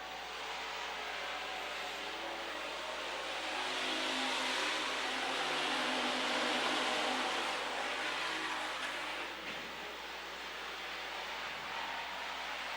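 Pure stock race cars roaring around the Amsoil Speedway dirt track during a feature race, a steady wash of engine noise that swells as the pack passes closer and then eases back, continuous with no talking.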